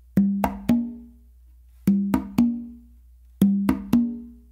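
Congas play a guaguanco tumbao with a closed slap: sharp, cracking strokes followed by a ringing open tone, grouped in threes and repeated three times, close-miked with no voices.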